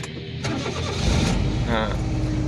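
A driving school car's engine cranks and catches, then settles into a steady idle with a rising hum, close by and fairly loud.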